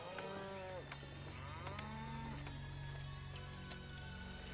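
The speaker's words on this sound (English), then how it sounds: "These cattle just troop straight through all the straw." Cattle in the city-building game Pharaoh give several overlapping moos, some drawn-out and others brief, over a constant low droning game ambience with faint clicks, with no talk.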